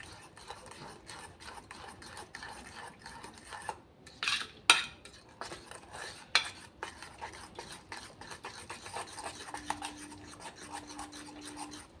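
Thin batter stirred in a bowl, quiet rhythmic scraping and clinking of a spoon against the sides, close and soft, with a faint voice murmuring at times.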